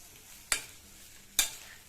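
Colocasia pieces are stirred in a pan to coat them in masala, with a low frying hiss and two sharp scraping strokes about a second apart, close but faint.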